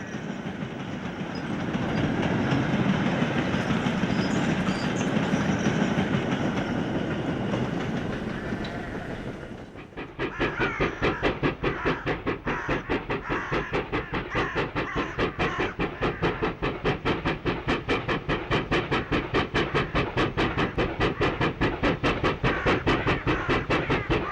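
A B1 steam locomotive hauls a train through a Scottish junction between Cowdenbeath and Lochgelly. A steady rumble and hiss give way at about ten seconds to loud, rhythmic clickety-clack of wheels on rail joints that runs on to the end.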